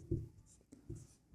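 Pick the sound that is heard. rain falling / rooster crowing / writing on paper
writing on paper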